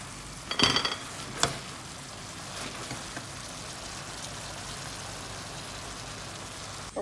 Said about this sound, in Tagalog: next is hamon York. Let's fry it.